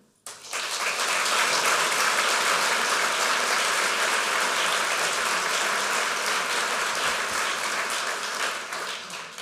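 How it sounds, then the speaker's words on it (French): Audience applause after a mayor's New Year's greetings speech in Pornic, a strong, sustained roar of clapping from a large crowd that starts abruptly and holds steadily, easing slightly at the end. "Je vous propose de les applaudir."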